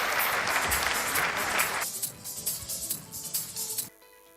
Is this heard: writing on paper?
no